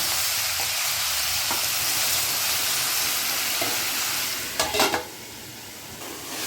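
Vegetables for a five-vegetable vegetarian mix, panch torkari, fry in a pan under a steady broad sizzle, with a few soft scrapes as they are stirred and a brief louder clatter of stirring near the end.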